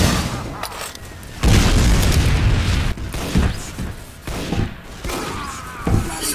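Rocket explosions in a video game land as a series of loud, heavy booms several seconds apart, each followed by a rumbling wash of debris, over a constant noisy background.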